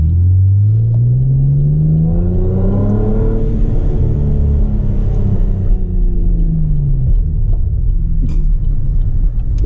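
Modified fifth-generation Chevrolet Camaro engine and exhaust on the move, a loud, steady rumbling drone that rises in pitch as the car accelerates, then falls and settles into a constant growl, with no talking.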